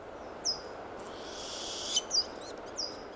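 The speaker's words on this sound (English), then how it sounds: "The owl continuously called the male, who regularly brought food." A mother owl in the Siberian forest in mid-June gives several short, high calls spaced out over a few seconds against a steady hiss of forest background, fairly faint and with no voices.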